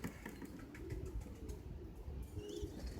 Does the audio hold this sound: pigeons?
yes